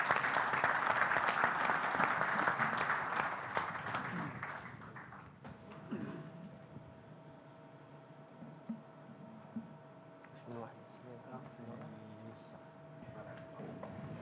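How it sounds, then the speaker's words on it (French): An audience claps at the third International Chemistry Forum. The applause is loud and full for about five seconds, then fades into a quiet hall with a faint steady hum and a few scattered taps and thumps. "Sous vos applaudissements,"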